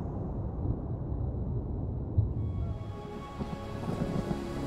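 Stormy weather in the video game Ori and the Will of the Wisps: a steady, dense roar of heavy rain with low rumbling thunder rolling underneath, continuous throughout with no voices.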